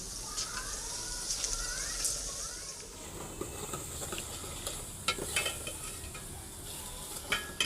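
Spices and onion fry for a tadka in a pan in a village kitchen, a soft, steady sizzle broken by faint stirring scrapes and clinks, heard quietly and close up.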